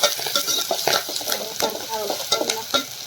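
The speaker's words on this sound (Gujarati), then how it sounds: "આપણે થોડી ડુંગળી શેકાવા દઈએ" Onions sautéing in oil in a pan for a ridge gourd and onion curry, a close, continuous sizzle broken by frequent scraping stirs of a spatula.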